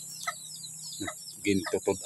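Several short clucks from chickens, close and moderately loud, in a quick uneven series toward the end, with a steady hum underneath.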